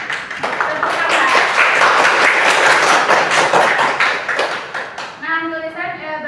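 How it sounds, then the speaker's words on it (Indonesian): A classroom of students claps their hands together in a burst of brisk, fairly close applause that fades out, followed by a voice speaking alone. "Tepuk tangan."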